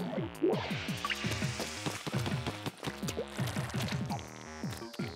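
Liquid sloshing and splashing in the video game Splatoon 2, a busy run of wet drips and pours layered with bright game music, fairly loud and continuous with no talking.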